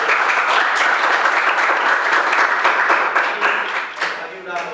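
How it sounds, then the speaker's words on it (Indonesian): A classroom of students clapping together during a lesson, a close, loud and brisk patter of many hands that holds steady before thinning toward the end, with voices audible over it. "Kita tepuk tangan dulu ya biar semangat."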